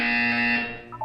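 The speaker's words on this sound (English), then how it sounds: "When you hear the buzzer, look down at the floor." A harsh electronic buzzer sounds in the video game Portal 2, one loud sustained tone lasting about a second, then a short warbling chirp as it ends.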